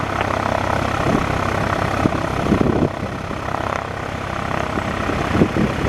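Piper PA-28 Warrior II light airplane at Northeast Philadelphia Airport: a steady propeller engine drone with a few brief louder bursts and faint background noise, no talk.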